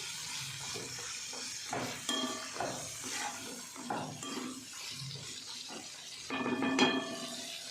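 Green peas sauté in a pan for matar nimona: a soft continuous sizzle with repeated scraping and stirring strokes of a spoon against the pan, ending in a brief louder clatter.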